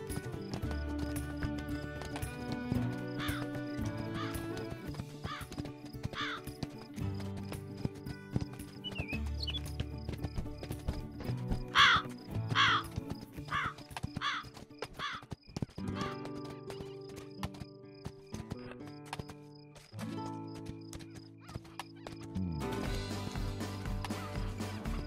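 Horse hooves clip-clopping in the video game Spirit Lucky's Big Adventure, with a whinny, a steady rhythmic trot under game music that dominates the mix.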